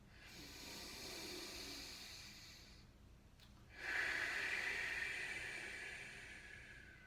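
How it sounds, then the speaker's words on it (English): A long, steady exhaled breath during a yoga warm-up, airy and close, breaking off briefly and then returning as a stronger, forceful push of air that slowly tapers away. "we're going to exhale and squeeze all the air out"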